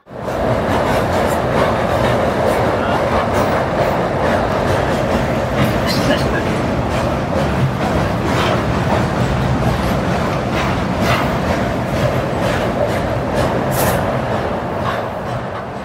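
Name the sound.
13009 Doon Express train standing at Pandit Deen Dayal Upadhyaya Junction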